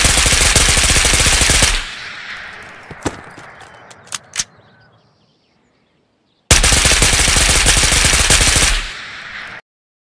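A gun fitted with a combat grip fires in Ghost of Tabor in two long sustained automatic bursts, loud and close, separated by a few spent-casing clinks and then silence.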